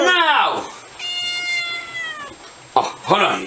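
A house cat meows in a long, drawn-out cry, bracketed by loud, close voices talking and shouting just before and after.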